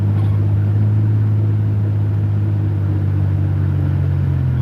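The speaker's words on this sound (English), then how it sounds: "My loud truck sounds like a tank." A loud truck with a blown-out muffler idles in a steady, deep, tank-like rumble, close and unbroken, with no talk over it.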